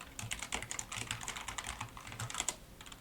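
Rapid, close clicking of a computer keyboard as a terminal command is typed, with steady, evenly paced keystrokes and no talk.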